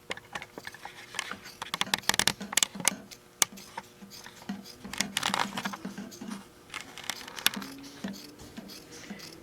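A rotary cutter slices through the edges of a quilt-as-you-go sewing machine mat, producing close, irregular crisp clicks and cutting scrapes in quick bursts.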